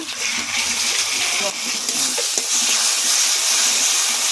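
Ground tomato paste sautés in oil with turmeric, coriander, cumin and dried chilli paste, giving off a strong steady sizzle with stirring scrapes. The sound swells slightly toward the end.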